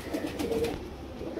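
A female Antique Eyes pigeon gives a soft, low coo, brief and close, with no talking.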